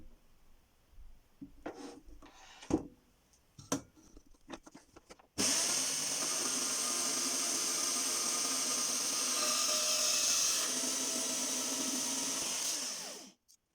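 A few clanks and knocks, then a Scheppach MBS1100 metal band saw grinds steadily through a 40x40 steel tube for several seconds, cutting a thin slice, before cutting off abruptly.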